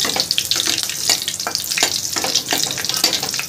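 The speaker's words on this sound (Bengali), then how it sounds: "ভাজা ভাজা হতে দিতে হবে কালো জিরেটা, কাঁচা লঙ্কাটা।" Black cumin and chopped green chilies fry in hot oil with a steady close crackling sizzle, broken by a few soft stirring scrapes and no voices.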